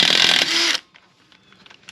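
A wrench breaking loose an 18 mm tie rod nut on a 2004 GTO rear suspension, a short loud grinding crack lasting under a second, followed by faint small clicks and handling sounds.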